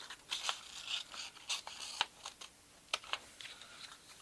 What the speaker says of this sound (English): So I'll use my scissors.